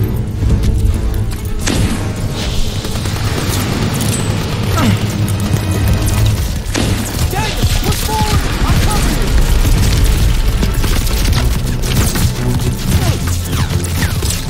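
Loud, dense battle noise from the World War II shooter Call of Duty WWII, with crashing booms and bursts around a pole charge explosion, continuous and heavy throughout, with voices shouting over it.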